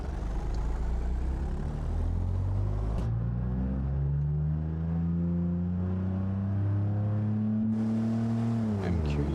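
A 1966 Gavril Bluebuck 232 engine in BeamNG revs up through the gears in long rising sweeps, dropping between shifts, a loud, steady drone heard close throughout.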